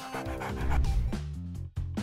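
A dog in a video game pants rapidly and lets out soft whimpers and yips, close and fairly loud, with a game music-like tonal backdrop and no speech.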